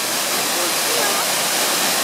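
Waterfall lit up at night during a lantern-floating festival in Moka, a steady broad rushing roar of falling water, continuous and fairly loud throughout with no clear voices.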